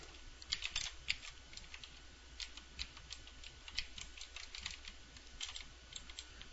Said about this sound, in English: Start over with the typing.